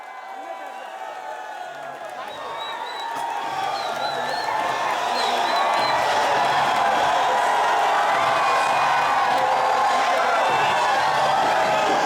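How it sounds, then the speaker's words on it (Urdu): A large crowd at a political rally in Malegaon breaks into applause and cheering that swells and stays loud and dense, with voices shouting within it. "زوردار تالیاں۔"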